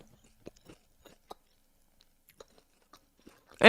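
Coconut chunks are chewed close up, giving sparse soft crunches and wet bites spaced through quiet, ending in a brief burst of louder sound.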